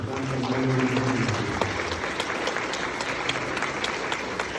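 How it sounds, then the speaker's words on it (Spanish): A church congregation breaks into steady, dense applause for the Holy Mother of God, following a brief sustained musical tone at the start. "Vamos a darle un fuerte aplauso a nuestra Santa Madre de Dios."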